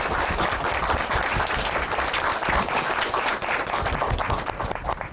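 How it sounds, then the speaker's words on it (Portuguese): A room full of adolescents and teachers gives a round of applause to everyone at a school talk session. The dense, loud, continuous clapping holds steady throughout with crowd noise mixed in. "Uma salva de palmas para todo mundo e vamos agradecer as profs também"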